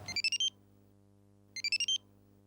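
A phone rings in two short bursts of bright electronic warbling tones with a pause between them, over a low steady hum in a family home.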